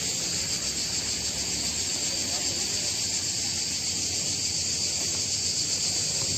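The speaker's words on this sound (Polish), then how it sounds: "Słyszycie cykady?" Cicadas on a warm street by a park on the Croatian coast, a steady loud high buzzing drone that fills the whole clip without a break.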